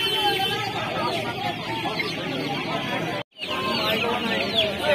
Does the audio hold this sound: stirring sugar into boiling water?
no